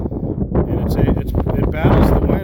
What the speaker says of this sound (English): that's a really huge gust right there